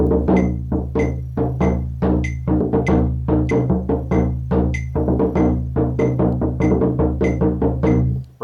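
A bodhran frame drum is struck in quick, evenly spaced 16th notes in triple time, a close, resonant run of deep thumps with rhythmic accents and no talking.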